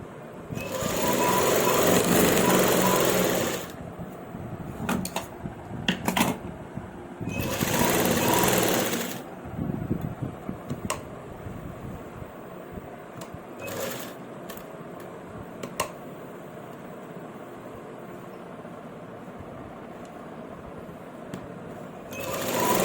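A sewing machine runs in two sustained stitching bursts along a shirt (kameez) seam, the motor whirring loudly for several seconds each time, with quieter handling clicks and taps between the runs.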